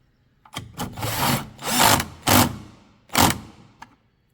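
Bolts being tightened and clips fitted while a front grill goes onto a Mercedes W124 E-class, heard as several close bursts of rough scraping, ratcheting and plastic rubbing with short pauses between them.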